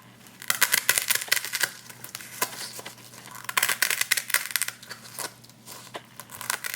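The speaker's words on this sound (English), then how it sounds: "I'm going to use the top of my cone to demonstrate how you can do it with scissors." Scissors snip and crunch through a dry floral foam cone for a topiary, a run of close, crisp crackling cuts in irregular bursts with no talking.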